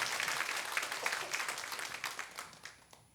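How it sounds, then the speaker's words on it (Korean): A church congregation at a baptism service claps to encourage a woman about to give her testimony, producing soft, fairly distant applause that thins out and trails away. "우리 다 같이 박수로 격려하도록 하겠습니다."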